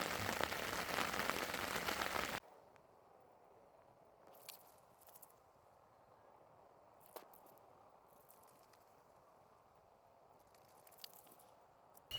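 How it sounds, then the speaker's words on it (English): Heavy, dense rain patters loudly on a tarp over a campsite in Forbes State Forest, Pennsylvania, for a couple of seconds, then thins to a quiet hush with occasional scattered drips. "I'm sure you can hear the rain coming down on top of it."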